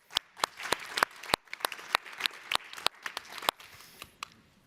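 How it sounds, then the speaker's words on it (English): Audience applause for a panelist at a discussion on health-record algorithms: a scattered, moderate crowd of hands clapping, with sharp individual claps standing out and the applause thinning toward the end. "A warm applause for Jonas as well."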